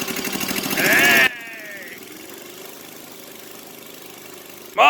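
A snow blower engine, freshly fitted with a new head gasket, revs loudly for a moment and then drops to a steady mid-pitched idle that chugs on alone.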